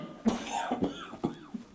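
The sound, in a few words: cough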